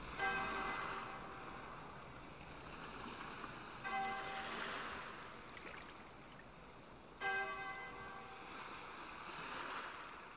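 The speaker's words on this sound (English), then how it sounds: "Far in the grey, a bell chimed." A distant bell, rendered as a sound effect in a dramatized reading of Joyce's Ulysses, chimes in three slow, evenly spaced strokes with ringing overtones over a faint watery wash.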